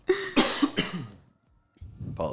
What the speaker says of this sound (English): you probably don't appreciate me coughing in your fucking ear